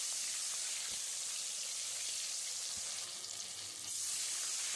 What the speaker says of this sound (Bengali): কড়াইতে তেল দিয়ে মাছগুলো আমি ভেজে নিই।